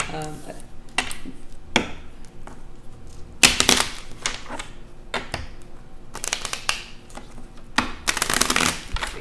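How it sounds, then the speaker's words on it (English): Tarot cards shuffled by hand in irregular bursts of crisp riffling and snapping, with a few louder flurries between quieter stretches. "Cards always popping out."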